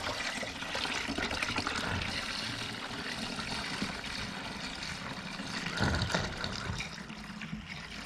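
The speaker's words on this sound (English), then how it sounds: "fill it up with the distilled water" Distilled water pours steadily into a jug, a continuous splashing trickle that stays fairly even throughout with no talking.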